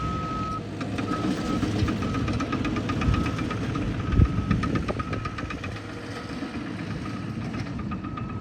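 Heavy construction machinery grades sand at a beachfront bulkhead for two new access ramps, a continuous engine rumble with intermittent reversing beeps and clanks, moderately distant and steady throughout.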